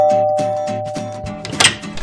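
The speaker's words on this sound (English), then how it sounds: "ring the doorbell" A doorbell rings out in a rapid sequence of bright chime tones, close and clear, followed by a short burst of clatter.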